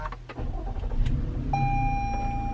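A 2021 Toyota Highlander engine starts at the press of a push button, a brief cranking catch settling into a steady smooth idle with a faint tonal whine, close and alone.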